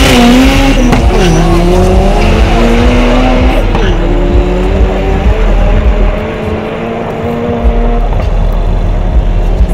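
A turbocharged drag racing car launches from the start line, its engine roaring loud and close with rising, shifting pitch and tire squeal before the sound eases as it pulls away.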